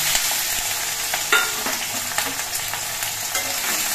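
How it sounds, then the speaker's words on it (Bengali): Chopped ginger, green chilli and cashew nuts fry in hot oil, crackling and sizzling up close while a spoon stirs and scrapes the pan with a few sharp knocks, no voices. "একটুখানি নাড়াচাড়া করে ভেজে নেব"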